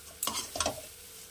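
Coriander and cumin powder roasting with tomato in a pan, heard as two short scraping stir bursts over a soft background sizzle, close and fairly quiet.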